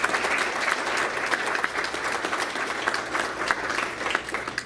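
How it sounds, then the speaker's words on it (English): Steady, dense applause from a banquet audience at a college event, a full room clapping continuously and evenly throughout without a break. "So let's have a round of applause for those people."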